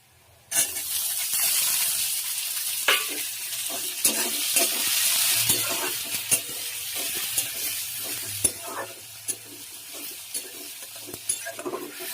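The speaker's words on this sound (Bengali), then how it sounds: "পেঁয়াজটা আমার ভাজা হয়ে গেছে, আর বেশি ভাজবো না। এবার টমেটোটা দিয়ে দেবো।" Onions and tomato frying for a fish curry in a pan, a steady loud sizzle with a sudden onset, broken by scraping stirs and occasional utensil knocks, heard close and without talk.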